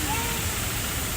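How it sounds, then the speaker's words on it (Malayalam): Fast-flowing stream water rushes loudly and continuously near a waterfall, a dense broadband roar filling the short moment with a voice faintly mixed in. "വെള്ളത്തിന്റെ ഒഴുക്ക് കണ്ടോ. എന്താ ഒഴുക്കാ നോക്കിയേ"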